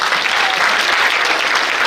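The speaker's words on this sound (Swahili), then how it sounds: "tumpongeze kwa makofi" A crowd applauds steadily and densely throughout, a continuous wash of many hands clapping at close to moderate distance with no pauses.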